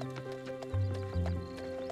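Horse hooves clip-clop in a steady rhythm while a horse neighs and whinnies over them, fairly close and moderately loud with no talk.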